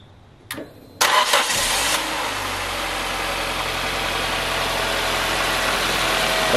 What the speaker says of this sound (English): Going to start the car.